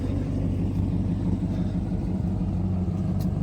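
A 1997 Brabus E65 Mercedes car engine idles with a deep, steady low rumble, close and continuous for a few seconds with no talking.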